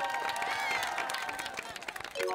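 Studio audience applause on a televised singing show, a dense patter of clapping that rises over sustained musical tones and holds steady before thinning near the end.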